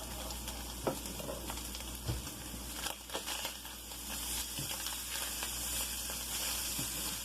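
Cod fillets fry in a pan as they turn crispy, with a loud, steady sizzle close by and a few clinks and scrapes of stirring mixed in, and no voices.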